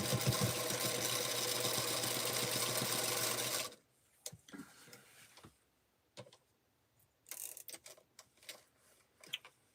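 A sewing machine runs loud and steady while quilting a sweetheart block, then stops abruptly, leaving scattered clicks and soft handling noises with brief quiet pauses.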